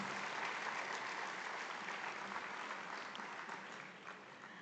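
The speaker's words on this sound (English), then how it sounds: "Can we have another huge round of applause, ladies and gentlemen, for all you new Indians?" A large audience at a corporate anniversary celebration applauds steadily, a dense wash of clapping that holds for several seconds and fades slightly toward the end.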